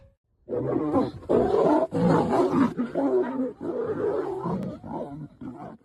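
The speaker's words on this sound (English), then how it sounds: "The lioness growls at him and attacks him with her claws." A lioness growling and attacking a lion in a forest, caught on a trail camera: a run of loud, close, rough roars and snarls in bursts, with short breaks between them, and no speech.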